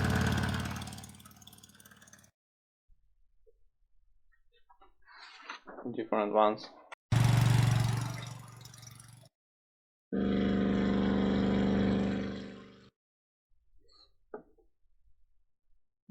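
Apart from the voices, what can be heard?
car engine sound asset in Unity car game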